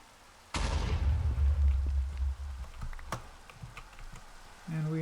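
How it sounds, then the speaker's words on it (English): TNT exploding beneath about two stacks of iron in the Minecraft SevTech modpack, a single sudden loud blast followed by a rumbling decay and scattered small clicks and pops, ending in a short tonal blip. "I dropped about 2 stacks of iron there on top of the TNT"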